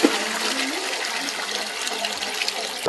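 Water runs and splashes steadily while freshly churned butter is rinsed during traditional churning in Bresse, a continuous close wash of liquid with no pauses.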